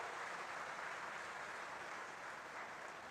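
Applause from the audience at a Uttar Pradesh Police telecommunications appointment ceremony, a soft, distant, even patter of many hands, steady and unaccompanied by talk.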